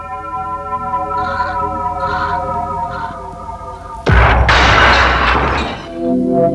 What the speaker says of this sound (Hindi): शीशा टूट गया।